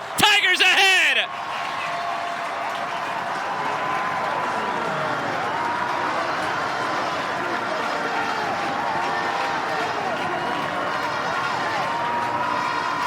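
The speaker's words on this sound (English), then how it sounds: "This crowd was waiting to erupt, and Ransford Gian gives them the reason!" A stadium crowd at a South Carolina vs. Clemson men's college soccer match roars in a sustained cheer after a goal, a broad wash of noise lasting many seconds under an excited commentator's voice.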